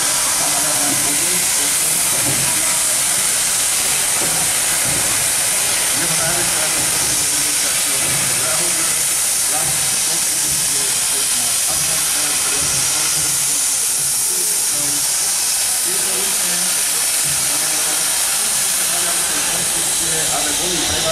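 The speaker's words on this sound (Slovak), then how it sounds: "lokomotíva, maďarské konštrukcie" A Hungarian-built steam locomotive hisses steadily in a turntable parade at a railway gathering, with a continuous broad rush of escaping steam throughout and faint background chatter underneath.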